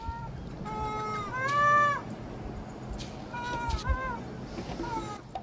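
Ring-tailed lemurs trade cat-like mewing contact calls within a zoo group, several rising and falling wails spaced across the moment against a quiet background.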